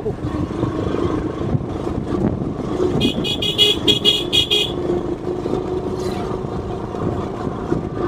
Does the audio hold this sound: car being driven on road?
yes